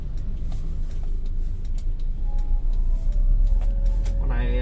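Engine of a 2008 Hyundai Verna 1.4 while driving in traffic, a steady close low rumble inside the car with a rising tone near the end as it accelerates.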